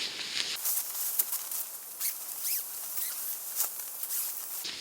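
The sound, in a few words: zipper of Snugpak hammock cocoon sleeping bag being opened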